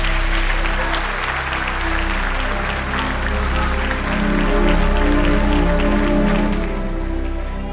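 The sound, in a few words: church congregation applauding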